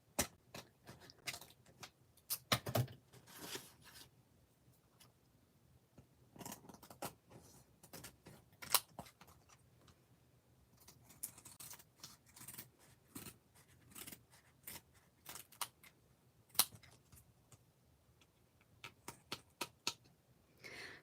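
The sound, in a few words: scissors cutting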